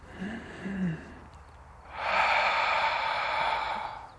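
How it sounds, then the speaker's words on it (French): During a Pilates session, a person first draws in two short breaths, then pushes a long forceful breath out through the mouth, a breathy rush that lasts about two seconds, heard close and alone in a quiet room. "Chasser l'air par la bouche comme si vous cherchiez à faire de la vapeur, de la buée devant vous"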